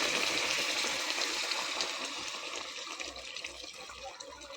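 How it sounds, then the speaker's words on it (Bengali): Heated water is poured into a cooking pot, making a close, gushing splash that starts strong and gradually eases and thins over a few seconds. "এবার জলটা দেব।"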